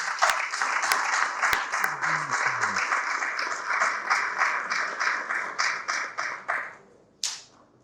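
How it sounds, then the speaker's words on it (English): An audience at a business technology event applauds to welcome a speaker, a steady crowd clapping with a few sharp nearby claps, briefly joined by low murmuring voices, tapering off and ending in one last clap. "With a round of applause, help me welcome Daniel Opuni-Frimpong"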